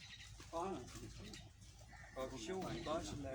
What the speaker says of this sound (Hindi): ज़ेर यार को कबूतर दिखाओ।